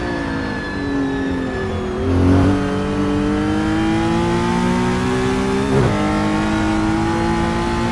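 A race car engine holds a steady high drone in the Assetto Corsa sim racing game, its pitch climbing and dipping through gear changes during an endurance race, loud and close throughout.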